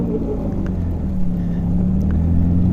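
A Polaris Slingshot's engine drones low and loud, revving at about 1500 RPM as its wheels spin in snow, a steady close rumble that swells slightly toward the end.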